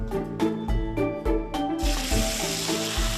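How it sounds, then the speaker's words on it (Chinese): Fresh chilies are stir-fried over high heat in a wok, with a loud steady sizzle taking over after a tonal musical opening, and rhythmic tossing thumps beneath it. "大火爆炒"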